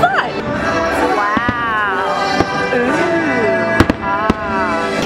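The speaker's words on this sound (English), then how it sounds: "Oh my god, are those the fireworks starting?" Fireworks at Disney World heard from nearby: several sharp bangs and pops over a loud, busy background of music and crowd, with voices talking throughout.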